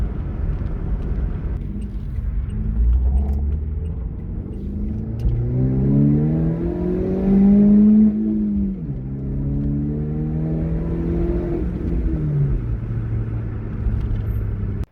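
A Holden Barina/Corsa SRI engine fitted with a new air intake revs up and down in a sustained, loud rumble, its pitch climbing and falling across several pulls with no talking.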